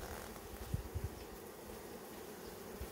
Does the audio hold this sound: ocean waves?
no